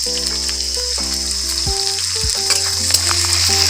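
Chopped onion with a little salt frying in a pan makes a steady, close sizzle throughout, with faint tonal background sound underneath.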